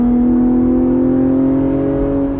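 Porsche Cayman GTS 4.0 mid-engine car driving, its engine a steady, loud, close droning hum that holds an even pitch throughout with no talk over it.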